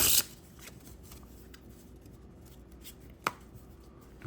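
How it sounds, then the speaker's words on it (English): Playing cards are faro shuffled by hand, a soft, steady riffle of interleaving cards with a sharp snap near the start and another crisp click later, heard alone and close. "See if I can still Pharaoh shuffle."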